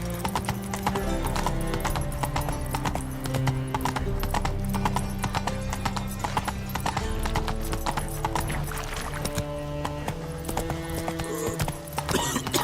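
Roach, Geralt's horse in The Witcher 3, trots with a steady, rhythmic clip-clop of hooves heard close and clear over a soft game soundtrack, and one brief whinny cuts in.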